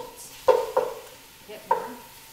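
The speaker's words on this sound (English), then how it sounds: "So I'm just going to stir this up and break down the meat" Ground meat being stirred and broken apart in a pan for chili, giving three or four distinct scraping stirs over a soft, steady sizzle, close and fairly quiet with no talking.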